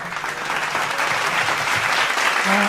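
Audience applause at a Gujarati talk on sending a daughter off after marriage: dense, continuous clapping from a crowd that holds fairly loud and even for a few seconds.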